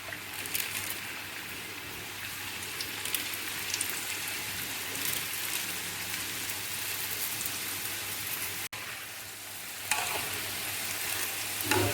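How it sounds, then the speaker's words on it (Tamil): Oil sizzles and crackles steadily as potato curry puffs deep-fry, a dense hissing texture with a couple of soft clicks, no talking. "நான் இப்போ கறிப்பாப்பு பொரிக்க போகிறேன்."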